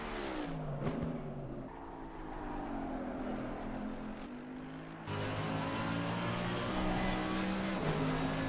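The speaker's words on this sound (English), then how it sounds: "The Mercedes running this huge V8, it just has low down grunt" A Mercedes GT3 car with a big V8 roars through a race at Mount Panorama in a racing video game. The engine revs climb and drop through gear shifts, loud and continuous, with a sharp shift in tone midway.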